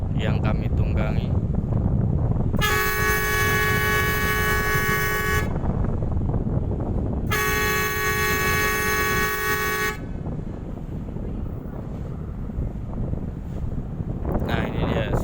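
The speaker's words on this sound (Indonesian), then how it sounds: "Jadi ini di depan ini ada kapal ikan. Di klakson dari tadi dia nggak mau minggir" A fishing boat's horn blasts twice in long, loud, steady tones at a passenger ship that it is blocking at sea, with constant wind rumble underneath.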